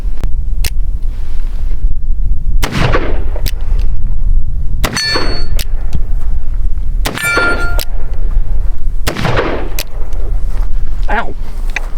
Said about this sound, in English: I'll load it up and shoot it some more.